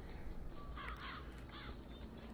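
Crows cawing in BioShock Infinite, a few harsh calls rising over a steady low ambient rumble, moderately close and with no talking.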